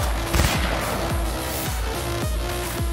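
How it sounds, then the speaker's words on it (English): Sniper rifle fire in Cyberpunk 2077 on Xbox Series X, a series of loud, evenly spaced booming shots, about five in under three seconds, over a busy combat backdrop. "that was a legit headshot with a sniper"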